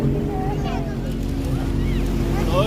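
A boat motors across water at Siddipet with a steady low engine drone, wind buffeting the microphone, and faint voices around it.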